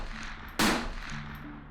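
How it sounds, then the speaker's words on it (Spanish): A gunshot sound effect in a crime-story podcast: one sharp, loud blast breaking through a low, steady background bed, then fading away; only a single shot stands out. "Luego de unos segundos escucharon 2 disparos"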